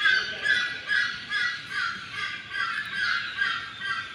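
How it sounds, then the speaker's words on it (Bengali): A peacock near a temple gives a rapid series of about eight loud, harsh calls in an even rhythm, each roughly half a second apart, standing out clearly over quiet surroundings. "ময়ূর ডাকছে, শুনতে পাচ্ছেন?"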